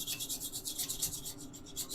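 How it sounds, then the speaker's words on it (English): A scraper takes old paint off an aged minibike part, giving quiet, rough rasping strokes that repeat steadily close by, with no speech. "I don't know why I'm scraping all this off."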